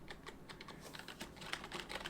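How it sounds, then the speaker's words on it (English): Fast, soft clattering keystrokes on a Corsair K55 keyboard, a dense, steady run of quiet, smooth key presses close up with no talk. "I'm just going to smash some of these keys so you can hear what it sounds like"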